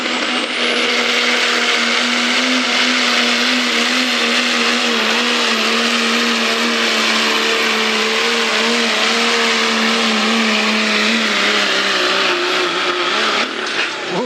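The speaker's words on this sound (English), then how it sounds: "he's once again spooling that turbo up" A turbocharged pulling truck roars loud and close at a county fair truck pull, its engine note holding steady and then climbing in pitch as the turbo spools up, with a rising whine above it before the run cuts off.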